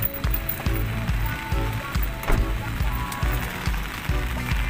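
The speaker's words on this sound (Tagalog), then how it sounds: "Umuulan." Rain falls in a steady, dense patter on surfaces outdoors at a city park, heard close, with repeated low thumps running under the hiss and no voices.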